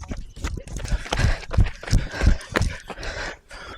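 A horse runs past in a rhythmic series of heavy hoofbeats, each thud clear and fairly close, with a loose, uneven galloping cadence over a quiet outdoor background.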